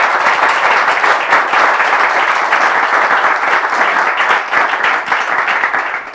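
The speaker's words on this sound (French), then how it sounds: "On applaudit, allez-y, très fort." Loud, sustained applause from a studio audience fills the whole stretch, dense and steady with no voices over it, easing slightly at the very end.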